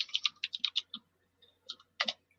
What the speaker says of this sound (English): I can hear the keys going.